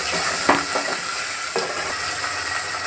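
Tomatoes hit a hot frying pan for Bengali khichuri, giving a loud, continuous hiss and sizzle with a couple of stirring scrapes near the start and middle.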